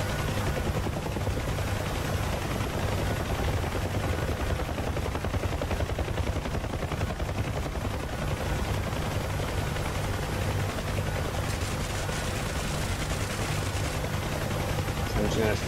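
Miniguns firing from a UH-1H Huey helicopter in the DCS combat flight simulator, a continuous dense rattle of gunfire blended with the steady rotor and engine drone, sustained throughout at close range.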